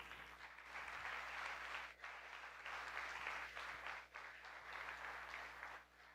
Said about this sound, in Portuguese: Se faz, aplaude a Jesus, por favor.